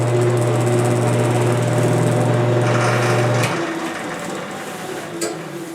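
Wood lathe running a burl bowl blank: a steady, loud motor hum with a strong, even tone that cuts off partway through, leaving a softer whir and a couple of light knocks.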